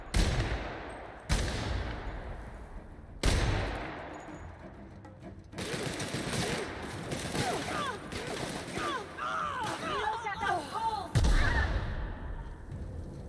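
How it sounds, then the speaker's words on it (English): Gunfire in the video game The Outer Worlds: sharp loud gunshots, then a sustained burst of rapid automatic fire with chirping ricochet-like tones, a final heavy blast near the end. "Opening fire."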